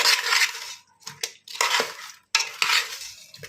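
Spoon scraping and mixing masala into raw fish pieces in a bowl for frying pakoda, several bursts of clinking, scraping strokes with short pauses between, close and fairly loud.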